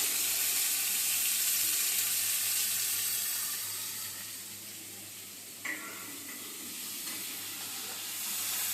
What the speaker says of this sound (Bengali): এবারে মটরশুঁটি আর গাজর পেঁয়াজ দিয়ে দেবো আর এখানে পেঁয়াজ আছে পেঁয়াজগুলো দিয়ে দেবো